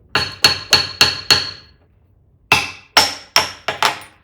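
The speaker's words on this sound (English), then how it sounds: "you can pound on this with a mallet" A mallet pounds on a socket chisel whose handle is held in by pressure: five evenly spaced sharp, loud knocks, a pause of about a second, then five more close strikes.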